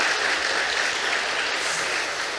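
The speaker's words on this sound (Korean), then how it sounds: "우리 박수로 감사드리겠습니다." A church congregation claps together during a Sunday service, a dense, even burst of applause lasting a couple of seconds with no talk over it.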